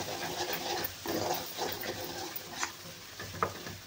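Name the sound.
spices with chili powder and turmeric sautéing in a pan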